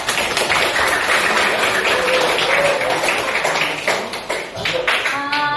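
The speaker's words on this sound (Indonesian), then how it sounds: "kita apresiasi diri kita masing-masing dengan tepuk tangan sekencang-kencangnya buat diri kita sendiri" Workshop participants clap for themselves as loudly as they can, a brisk wash of many hands mixed with cheerful voices that thins out toward the end.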